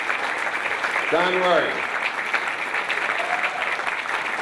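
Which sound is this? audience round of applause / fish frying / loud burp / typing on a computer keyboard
audience round of applause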